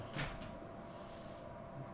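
A door-closing sound effect in a fantasy tabletop role-playing session: a faint, brief wooden knock and click near the start, then a low, steady room hum.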